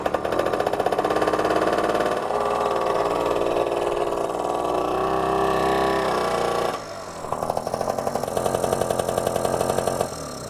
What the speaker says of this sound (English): That sounds like it's running off the carburetor.